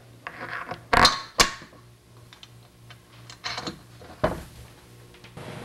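Metal hardware is handled while a 1 1/4 inch bolt and nut are fastened through a panel and two pieces of steel angle iron on a door booth, with sharp close clinks and clanks and softer rattles between them.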